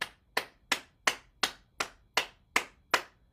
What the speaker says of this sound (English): So we'll start with the clapping.